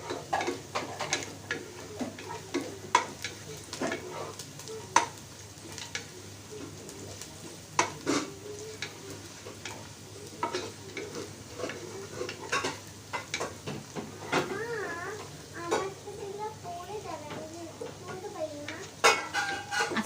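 Onions fry in a pan for pilau, with steady sizzling, a spatula stirring and scraping against metal, and occasional clinks of cookware; a voice talks briefly in the background.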